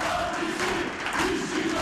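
Workers' Party supporters at a hall rally in Turkey chanting slogans and clapping to greet the party's acting chairman Hasan Basri Özbey, a dense roaring crowd with rhythmic shouted chants, brief and loud.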